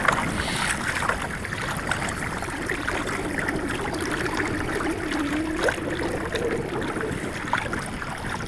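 A boat driven by a trolling motor turns around on open water and heads back into a canal, giving a steady, continuous water and motor wash with a low droning hum and no talk.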